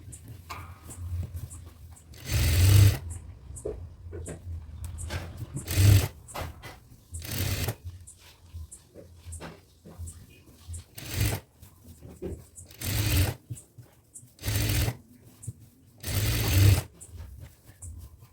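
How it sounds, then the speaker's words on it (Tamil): A sewing machine stitches a churidar pant in several short runs of rapid whirring, each a second or less. Quiet pauses of handling the fabric separate the runs. The machine is close and moderately loud. "இதே மாதிரி ஃபுல் ரவுண்டு நம்ம ஸ்டிச் பண்ணுவோம்"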